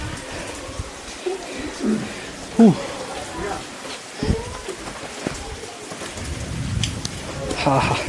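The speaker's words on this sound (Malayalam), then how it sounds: "നല്ല മഴ." Heavy summer rain falls steadily at Edakkal Caves in Wayanad, a continuous broad hiss with occasional nearby knocks and drips as people talk over it.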